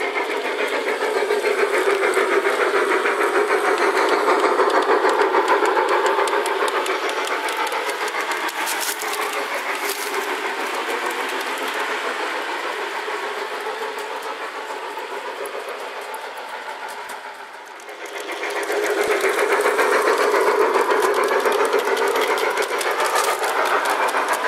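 Gauge 1 Model Company model mineral wagons roll along model railway track with a continuous metallic rumbling hiss, fading briefly near the end before building again.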